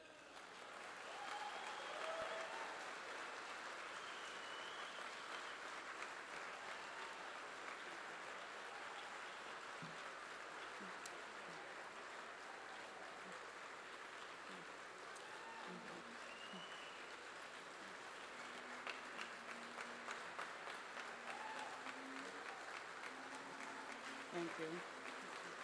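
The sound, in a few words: audience applause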